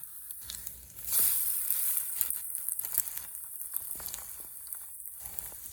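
Egg-dipped bread for French toast sizzles in melted butter in a pan, a steady close crackle that swells as the slice goes in and keeps frying with no talk.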